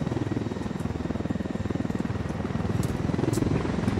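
A helicopter in Ghost Recon Wildlands thumps with a steady rapid rotor beat, close and continuous, a low droning pulse with no voices over it.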